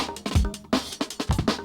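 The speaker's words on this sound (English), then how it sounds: "So I've got my drum break here." A drum break loop from a sample pack, for a jungle track, plays as quick, punchy kick and snare hits in a busy, syncopated rhythm, close and fairly loud, with no voices.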